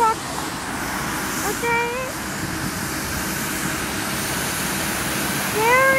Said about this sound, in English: There's the second street sweeper. Wow, that thing is loud.